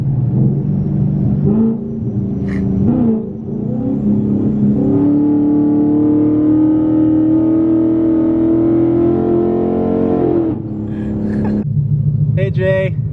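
A twin-turbo 1000 hp Ford Mustang with a 10-speed automatic pulls hard, its loud engine climbing and dropping as it shifts through gears, with turbo whoosh and a voice talking over parts of the run.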